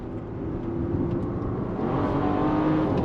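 A Bentley Bentayga Speed's heavy engine drones steadily and builds under load, accelerating in first gear from a roll, a low rumbling acceleration with a faint rising whine, close and continuous throughout.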